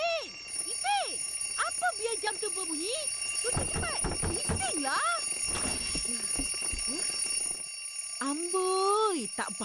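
A cartoon alarm clock rings in insistent bursts, mixed with playful voices and squeaky, bouncy effects that rise and fall throughout.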